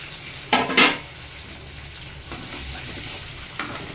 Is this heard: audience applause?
no